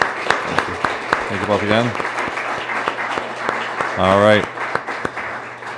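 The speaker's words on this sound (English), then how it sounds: "How about a round of applause?" Scattered, fairly light clapping from an audience at a Minnesota state senate candidate forum, sharp hand claps continuing under someone speaking.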